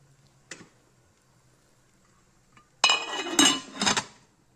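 A lid placed over a cooking pot of chicken biryani: one light metallic tap, then a cluster of loud clanks and rattles as the lid settles, close and clear in an otherwise quiet kitchen.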